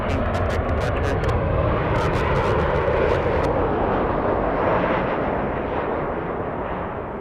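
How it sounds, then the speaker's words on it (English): Loud, steady roar of a Delta airliner arriving at Los Angeles International Airport, broad and rumbling. Sharp clicks punctuate the first few seconds, then the roar eases slightly as the jet passes. "Let's go for the arrival, Delta flight."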